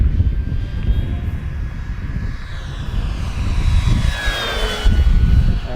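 An FMS P-51D Mustang Red Tail 145cm scale RC warbird with electric power makes a steady whining flyby overhead, the pitch sliding as it passes, with no talk.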